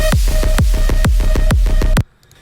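A heavy, booming electronic kick pounds in a steady four-on-the-floor beat, about eight loud hits with deep tails, under a sustained tonal layer in a psy-influenced intro drop of a trance-style track, then cuts abruptly to near silence.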